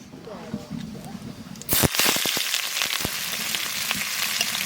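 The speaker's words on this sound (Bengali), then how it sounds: "তেল গরম হয়ে গেল তেলের পর দিয়ে দেবো জিরে আর তেজপাতা এইবার দিয়ে দেবো পেঁয়াজ" Onion hits hot oil already seasoned with cumin seeds and bay leaf, bursting into a loud sizzle and crackling fry after a quieter start, with a voice speaking over it.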